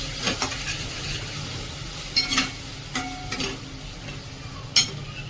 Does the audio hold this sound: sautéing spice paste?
yes